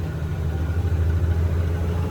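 A loaded truck engine labors in fourth gear up a winding ghat road, producing a steady low droning rumble with a slight throb, close and continuous throughout.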